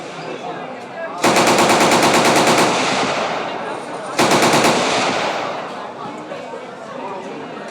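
Two long bursts of rapid automatic machine gun fire from heavy military weapons with live ammunition at a tourist shooting range near Saigon, Vietnam, loud and close, each burst lasting over a second and separated by a pause with a faint background murmur.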